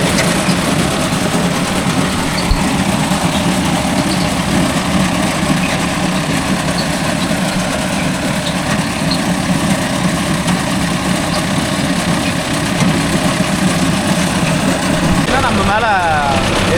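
A Mahindra Arjun Novo 605 DI tractor with a newly mounted crop cutter runs steadily in a field, a loud, continuous low engine drone with no pauses.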